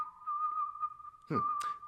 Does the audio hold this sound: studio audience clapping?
no